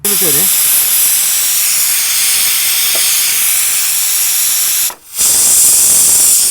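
A pressure cooker lets out a loud, continuous steam hiss that runs almost unbroken, dropping out briefly near the end before resuming.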